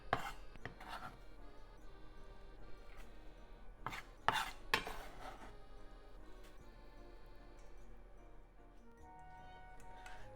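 Glass noodles get cut for a cucumber and tuna salad, a few sharp snipping clicks early and midway over a quiet kitchen background, then softer rustling.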